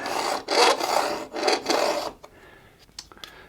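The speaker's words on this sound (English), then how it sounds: "And use my scraper to finalize that shape." A hand scraper shaves a carved wooden guitar neck in three loud rasping strokes, each about half a second, followed by quieter scattered scratches and taps.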